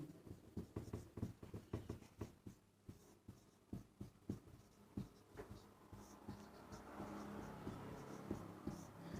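A pen or marker scratches across a board during a Class 10 maths lesson on circles, in short strokes and taps that come in irregular bursts, fairly close and moderately loud, with no talk over them.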